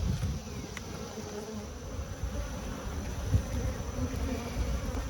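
Honey bees buzz around opened hive colonies after a honey harvest, a continuous low drone of many insects close by, with occasional louder individual passes and no talk.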